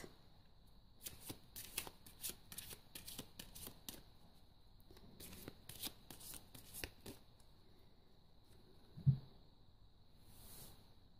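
Oracle cards for a tarot reading are shuffled in quick riffling bursts, a run of soft papery flutters and taps repeated rhythmically, close but quiet, with a brief thump near the end.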